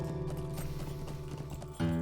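A person imitates a horse with their voice, mimicking clip-clop hoof beats in a steady rhythm during Lord of the Rings Online gameplay, close and fairly loud, with a stronger voiced burst at the end.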